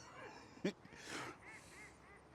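Waterfowl call nearby in a few short honking quacks, with a loud thump partway through and a low outdoor background, no talking.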